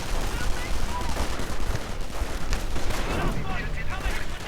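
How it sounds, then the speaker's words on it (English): Gunfire from an anti-tank gun aimed at a Puma armoured car during a World War II strategy video game battle, with dense overlapping shots and rumbling impacts sounding continuously throughout amid the general noise of combat. "the Puma itself finds it under heavy fire from an anti-tank gun"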